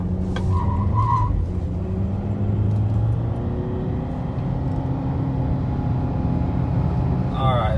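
A 2013 Audi A4 Premium turbo on new tires accelerates from a dead stop with a steady, close engine rumble that builds through the run, and a voice speaks briefly near the start.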